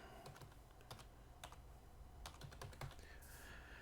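Rapid, steady typing on a computer keyboard while writing web page code, with uneven bursts of key clicks and clacks running through the whole stretch, fairly close and with no voices.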